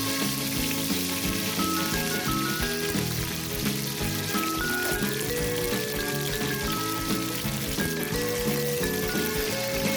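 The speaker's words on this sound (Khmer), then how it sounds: "យើងចាប់ផ្ដើមដាក់ខ្លាញ់ក្នុងឆ្នាំងឲ្យក្តៅបន្ទាប់មកដាក់ស្លឹកក្រូចសើចនិងគល់ក្រែ" Lemongrass and galangal frying in hot oil in a pot give off a steady crackling sizzle, close and continuous, with background music playing over it.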